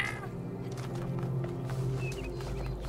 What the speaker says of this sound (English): I scared the kitty.